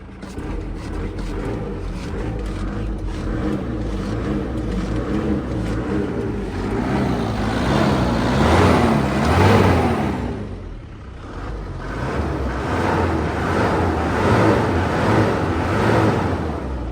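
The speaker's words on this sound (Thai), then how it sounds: "เดี๋ยวเรามาฟังเสียงเบิ้ลเครื่องกันครับ" A 2003 Isuzu D-Max 3.0 turbo pickup truck engine idles close by, then revs up in a long rising surge to about 3,000 rpm, drops back, and swells again in repeated steady revs.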